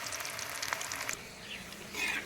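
Beetroot and cauliflower pakoras deep-frying in a pan of hot oil give off a steady close hiss and crackle with no voices.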